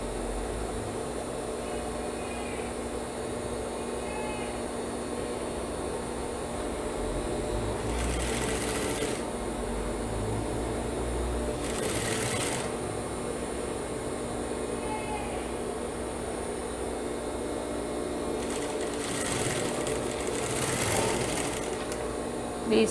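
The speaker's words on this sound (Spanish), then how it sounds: "Entonces ahí coso, cosemos de esta forma que nos quede bien parejito." A sewing machine runs steadily while stitching a trouser back pocket, a continuous close whirring hum throughout, with a few brief brighter bursts of higher-pitched noise along the way.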